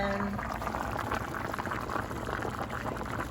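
Canned green beans boil in a pot on a stovetop set to 7, giving a steady, close bubbling and seething with no voices.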